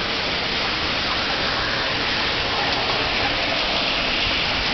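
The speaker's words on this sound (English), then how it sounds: "When you got rain like this, there ain't a gutter in the world that can withstand that, can take that kind of rain." Torrential thunderstorm rain pours onto a roof and overwhelms a freshly cleaned gutter, a loud, steady, dense roar of water that stays unbroken throughout with no talking.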